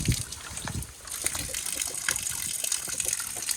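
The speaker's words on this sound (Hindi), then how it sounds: "तो हमें ये नेचुरल वाटर दिखा भाई, यहाँ पे पानी पीते हैं बहुत बढ़िया तरीके से।" Natural spring water gushes steadily beside a mountain road in Jammu and Kashmir, a close, continuous splashing rush with no talk over it.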